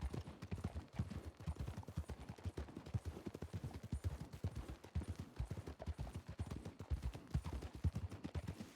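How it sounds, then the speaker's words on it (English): Horses' hooves clip-clop in a video game, a rapid steady galloping rhythm of close, fairly quiet thuds running continuously with no talking. "I think I heard horses behind us."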